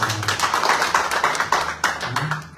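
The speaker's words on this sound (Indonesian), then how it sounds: "Berikan dulu tepuk tangan dari Tuhan." A church congregation claps steadily and densely throughout, a continuous wash of many hands applauding at close range.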